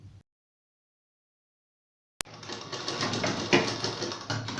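A sewing machine stitches the two back pieces of a ladies' trouser together, a fast continuous mechanical rattle starting abruptly after near silence and running steadily at close range.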